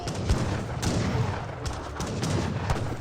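Heavy cannons in the Age of Empires 3 strategy game boom repeatedly in an irregular barrage, several loud thudding blasts over a dense rumble of battle.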